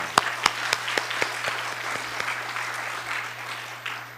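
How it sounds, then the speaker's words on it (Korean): During an early Saturday morning church service, the congregation gives a soft round of applause. A few distinct claps at the start lead into quieter, diffuse clapping that trails off. "우리 하나님께 영광의 박수를 한번 올려드리면 좋겠습니다"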